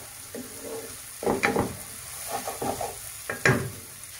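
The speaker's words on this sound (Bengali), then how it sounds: "একটু কষিয়ে নিচ্ছি।" Onion and tomato masala sizzles in a pan while a spatula stirs and scrapes through it, giving a steady frying hiss broken by irregular scraping strokes, close up with no talking.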